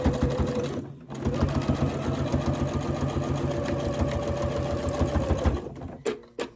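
Sewing machine running steadily and close as it stitches fabric, a rapid mechanical chatter that pauses briefly near the start and then runs on for several seconds before stopping, with no talking over it.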